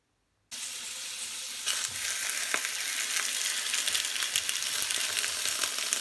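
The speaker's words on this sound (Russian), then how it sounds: "Картошечка поджарилась снизу" After a brief silence, a steady loud sizzle of potatoes frying in a pan begins and continues with crackling pops throughout.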